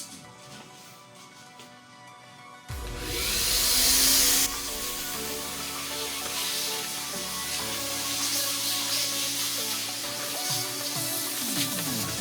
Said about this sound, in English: first step of vacuuming is done